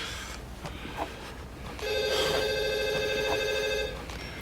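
A telephone bell rings indoors in one loud, steady trill lasting about two seconds, then stops, with quiet room tone before it and no talk.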